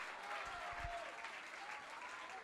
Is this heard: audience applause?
yes